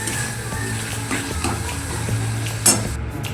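Turmeric and Kashmiri chilli powder stir-fried in a pan for khichuri, soft sizzling under scraping of a spoon against the pan, with a sharper metal clink near the end, close up.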